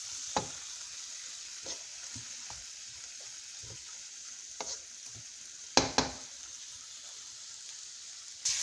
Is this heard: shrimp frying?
yes